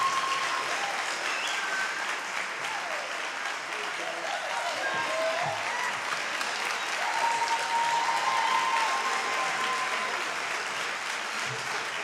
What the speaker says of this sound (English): Big round of applause for the jazz band